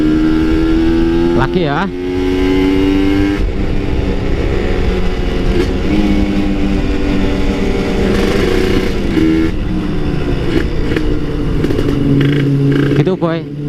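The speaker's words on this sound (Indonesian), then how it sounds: "itu downshift sekaligus engine brake" A two-stroke Kawasaki Ninja motorcycle downshifting and engine braking on an uphill incline, loud and close, with rising and falling revs and sharp blips between gears, while someone talks over it.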